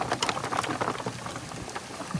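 Rain falling outdoors by the Matla river during a fishing trip, a dense, even patter of drops with a few louder splashes, close and steady throughout.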